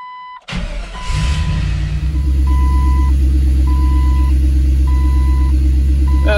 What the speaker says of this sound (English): This, starting it up, will show me how much vacuum my engine's running.